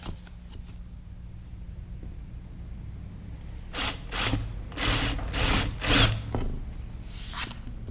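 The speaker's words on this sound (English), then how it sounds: "Got my ever trusty DeWalt impact gun with a little countersink bit there." A DeWalt impact driver with a small countersink bit boring into wood for flathead wood screws, heard as several close, rough grinding bursts in quick succession over a steady low background hum.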